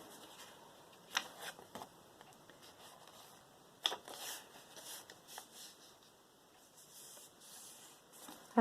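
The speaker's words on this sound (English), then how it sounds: "now I'm going to fold it up" A printed paper envelope is folded by hand in a quiet room, giving faint, close crinkles and soft creasing rustles with a few sharper crackles over a low steady background hum.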